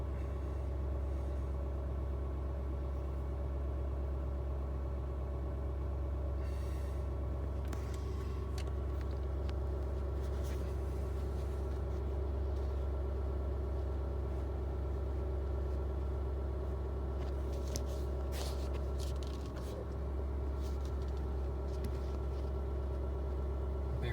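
A Ford 6.7 Powerstroke diesel pickup engine idles steadily with a deep, continuous low rumble, close by, with faint scattered clicks and no talking.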